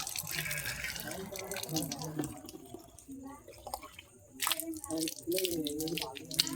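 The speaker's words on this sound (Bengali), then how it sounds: "এই যে জল ভরা হচ্ছে কল থেকে" Water running from an outdoor tap into a container at night, a splashing, trickling stream heard close by while a person talks over it.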